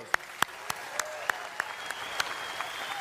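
Sparse handclaps from a Reform UK party conference audience ring out one by one, sharp and fairly quiet, with gaps between them.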